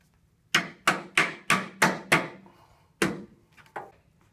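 End caps tapped onto the frame of a chaise lounge being re-slung, in a quick run of six sharp knocks followed by a few softer, spaced taps, close and clear.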